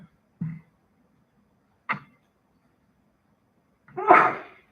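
A short burst near the end sounds like a sneeze, after two brief soft noises, in an otherwise quiet county board of commissioners meeting room.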